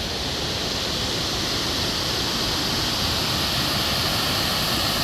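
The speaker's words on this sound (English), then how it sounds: "And this is Millstream Falls." Millstream Falls in North Queensland pours in a constant, dense roar of falling water, broad and hissing, close and steady throughout without any breaks.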